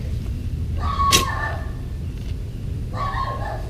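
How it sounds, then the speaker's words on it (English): A couple of short dog barks or yips from a distance, one sharp bark followed later by a softer pair, over low outdoor rumble. "That's the neighbor's dog."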